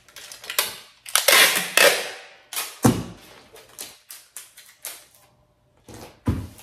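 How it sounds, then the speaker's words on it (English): Packing tape is pulled and pressed onto a package in a few loud, sharp rips and slaps, close up, with short pauses between strokes and no voices. "So I put it on here, I get my packing tape. Boom, boom, boom."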